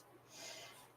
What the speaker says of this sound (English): I don't mean to sniffle in y'all's ears.